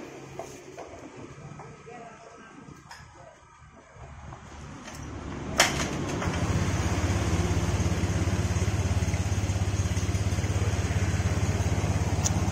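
A motorcycle with a weak starter battery is kick-started; after a few seconds of quieter fumbling, the engine catches with a sharp burst and settles into a steady, loud, close idle that runs to the end.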